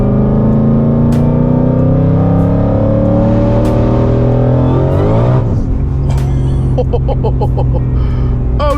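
A tuned Shelby GT500 accelerates hard, its engine note climbing loudly through the revs, then a gearshift drops the pitch before rhythmic bursts and crackles follow close by.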